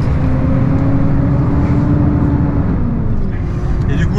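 A Volvo truck's loud engine drones steadily while driving, a dense low rumble filling the cabin without a break and a faint high whine running on top.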